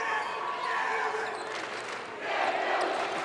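A crowd fills a high school gym before a basketball game, a steady murmur of many voices and shuffling with a few bounces and calls rising through it, swelling slightly toward the end.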